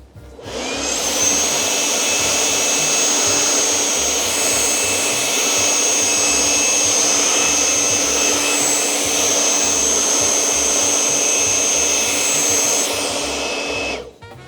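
A Bendict cordless air gun blasts a loud, steady whooshing roar, with a high motor whine running under it, held at constant strength for over ten seconds before cutting off.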